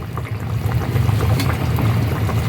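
Pieces of stingray fish go into a pot of boiling fish curry with cooked potatoes, making a steady, close, low bubbling and gurgling rumble that lasts throughout, with no voices.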